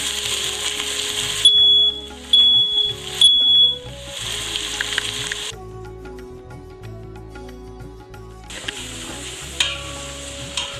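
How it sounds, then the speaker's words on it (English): Onions frying in hot oil in a pan for Sri Lankan frikkadels, a steady close sizzle with a few stirring scrapes and brief clinks running throughout, no talking. "So I cook the onions until they get slightly brown."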